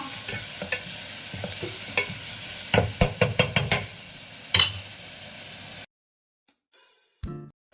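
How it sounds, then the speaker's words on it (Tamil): Onions sauté in a pan toward golden brown, frying with a steady sizzle while a spatula scrapes and clinks in rhythmic strokes, close and loud. The cooking stops abruptly near the end, leaving quiet and a few faint knocks. "அப்படியே வந்து இந்த ஆனியன் வந்து நல்ல கோல்டு கலரில் வர அளவுக்கு வதக்கிக்கோங்க"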